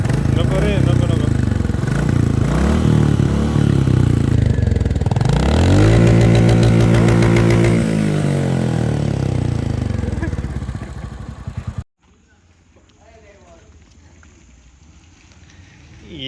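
A new Royal Enfield Bullet 350 motorcycle runs close by with a loud, continuous engine rumble that rises into a revving surge midway before cutting off. Voices talk over it.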